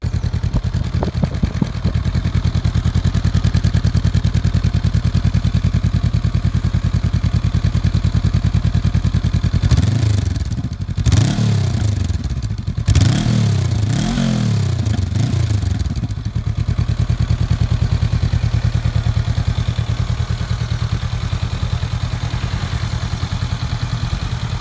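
A 2019 Honda CB500X parallel-twin motorcycle engine runs steadily with a low, even exhaust note, broken mid-clip by a few short blips of the throttle that rise and fall before it settles back to a constant idle-like drone.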